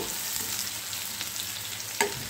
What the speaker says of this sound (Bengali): এবার এটাকে হালকা একটু নেড়ে চেড়ে ভালো করে ভেজে নিব